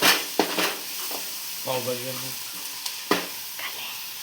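Pav bhaji masala being fried and stirred in a pan, a constant sizzle under a few clattering stirs and scrapes, with someone talking intermittently over it.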